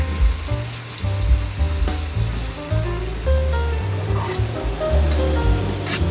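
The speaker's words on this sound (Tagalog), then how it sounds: "Pero ako ginigisa ko itong bagoong." Bagoong shrimp paste sautéing in a pan for Ilocano pinakbet, with a continuous close sizzle and crackle of frying and some stirring, while low background rumble and clatter sit beneath it.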